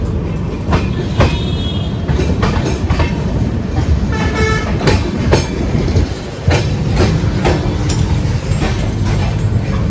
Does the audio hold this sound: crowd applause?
no